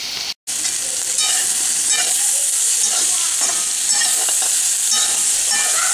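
Chopped onion fries with bitter melon in a hot pan, giving a loud, continuous sizzle with scraping stir strokes throughout after a brief silent gap at the start.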